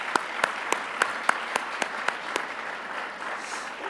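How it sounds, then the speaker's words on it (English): An audience at an HR achievement awards event gives another round of applause: a soft wash of clapping with a few sharp, distinct claps standing out near the front, easing off toward the end. "Let's give another round of applause."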